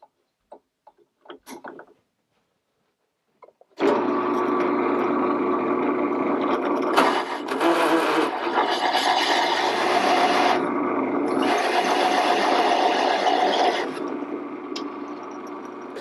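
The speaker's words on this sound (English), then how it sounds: "I'm just gonna set this up first before I start drilling holes" A powered hole saw cuts through wood for sailboat bulkheads, a loud sustained grinding whine of about ten seconds with a brief pitch change partway, preceded by a few sharp setup knocks and clicks.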